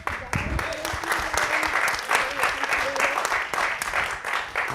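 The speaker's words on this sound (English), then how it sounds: "Round of applause for Don." A room of listeners at a World War II remembrance talk applauds a speaker named Don, a steady moderate wash of clapping from a modest crowd with voices mixed in underneath.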